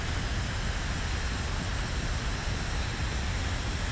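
Constant airplane flight noise in Kerbal Space Program 2, an unbroken hiss-like roar with low rumble underneath, steady throughout with no voices.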